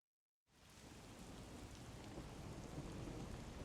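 Steady, dense video game rainfall from Rain Code hissing continuously after a brief silence, with a low rumbling undertone throughout; no voices.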